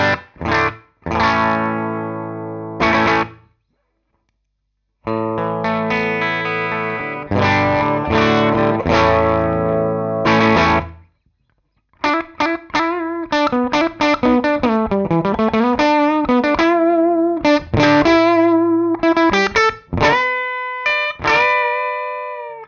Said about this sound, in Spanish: Para las pruebas hoy tenemos una Tokai LS160 con un Fender Supersonic 22.